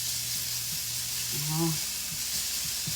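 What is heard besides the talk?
sautéing in a frying pan for minudo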